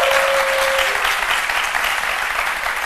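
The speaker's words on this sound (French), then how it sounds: "On l'applaudit." Studio audience applause on a French TV magazine show set, a dense, steady wash of clapping held at full loudness throughout, with a brief tonal tone at the start.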